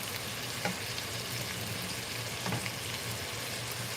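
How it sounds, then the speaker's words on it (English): Bacon sizzles on a stove in a soft, steady crackle with a few small pops, heard up close and fairly quiet. "Y'all can hear that bacon happening"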